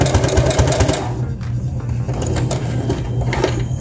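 Sewing machine back stitching a seam on baby pants, a loud steady mechanical whir with rapid needle chatter that briefly pauses and restarts, with no talking.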